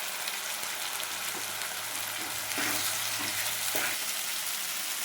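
Ginger, garlic and tomato paste with turmeric frying in oil for ghugni, a continuous dense hiss of spices cooking down, close and steady, with a few soft thuds and stirs in the pan.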